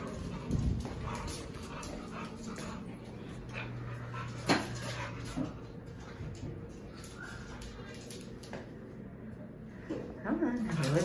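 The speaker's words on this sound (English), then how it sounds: "Dog." A dog panting and whimpering close by, with soft yips and breathy pants scattered through the clip while a person talks over it.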